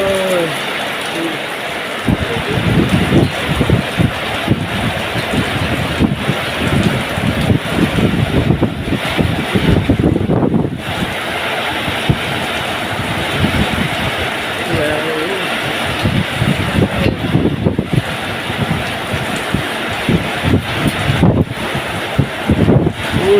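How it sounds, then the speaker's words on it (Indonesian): Strong wind with rain outdoors gives a loud, steady, broadband roar of buffeting and rushing sound that runs continuously throughout with brief dips. "Dingin sekali teman-teman, anginnya kencang sekali teman-teman."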